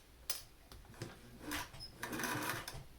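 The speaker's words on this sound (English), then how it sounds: "I'm going to stitch right down the seam." A home sewing machine stitches down the seam of a fabric mask, its needle running in a steady close whirring rattle with short pauses and restarts.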